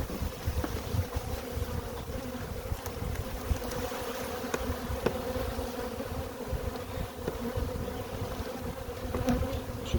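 Honeybees swarm around an opened hive where the queen has gone missing, a dense, continuous close-up buzz with no voices.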